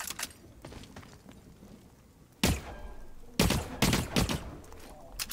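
Short bursts of gunfire crack sharply in the video game The Cycle: Frontier, several loud clustered volleys with gaps between them, close and punchy.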